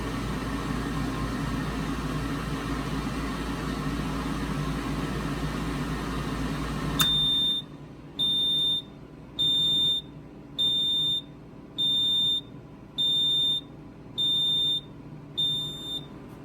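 A convection oven's beeper signals that preheating is done, sounding a bright, high electronic tone in a series of about eight evenly spaced beeps after a low background hum stops.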